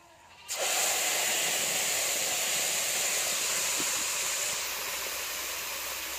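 Mustard paste drops into hot oil in a kadai and bursts into a loud, steady hissing sizzle that starts abruptly and holds evenly, easing slightly toward the end, with no talking.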